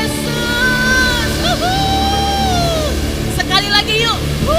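A church congregation at a Sunday worship service cheers loudly for Jesus. Sustained yells and whoops rise and fall in long drawn-out cries, with more excited shouts near the end, all over a dense crowd backdrop.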